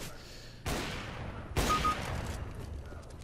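Two loud gunshot blasts from Overwatch, about a second apart, each with a sharp broadband burst and a lingering echoing tail over steady background noise.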